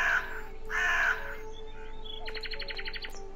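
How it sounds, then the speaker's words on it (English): Crow caws from the video game Midnight Scenes The Nanny: two long, harsh calls near the start, followed after a pause by a quick burst of short repeated chirping notes, all set over a steady low background hum. "Crow!"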